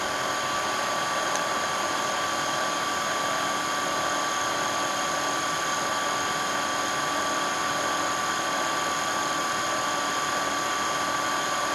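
A Kyvol V20 cordless vacuum's brush roll spins at low speed, giving a steady, even motor whine with a constant high hum that stays close and unbroken throughout, with no talking.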